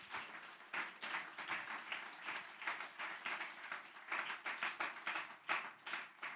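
A church congregation claps and applauds steadily for several seconds at a sermon, a dense patter of many hands filling the room with no speech over it.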